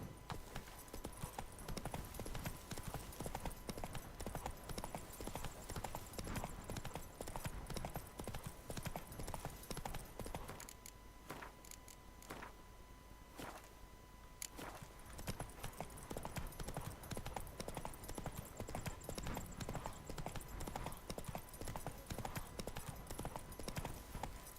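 Horse hooves gallop in a steady clip-clop rhythm through nearly the whole stretch, easing briefly in the middle before picking up again, set in The Witcher 3 video game.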